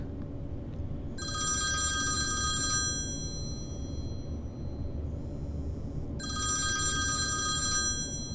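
A telephone bell rings in two long bursts separated by a pause, over a steady low background rumble.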